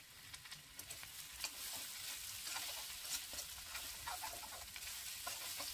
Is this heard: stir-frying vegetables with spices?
yes